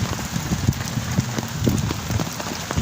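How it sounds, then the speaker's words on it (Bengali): Steady rain patters down with a gusty, rushing wash of strong wind behind it over a village, continuous and close. "বৃষ্টির মাঝে প্রচুর বাতাস"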